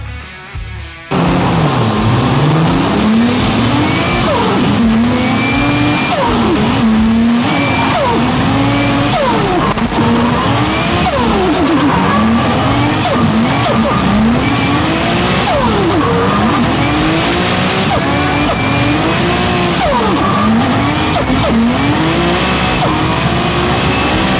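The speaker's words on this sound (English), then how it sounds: "Dell Campaign absolutely blazing those tires, but Jason Ferrin right behind him" Drift cars at a drift competition squeal their tires as loud, sustained engines rise and fall in repeated sweeps, close and continuous for the whole stretch.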